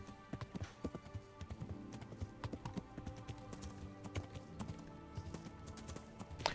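Horses trot in the Kingdom Come: Deliverance video game with a steady, rhythmic clip-clop of hooves, close and even-paced throughout.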